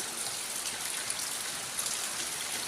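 Steady rain falls at a house doorway beside an open plot where work is under way, a dense, even hiss of drops hitting surfaces that stays constant and close throughout.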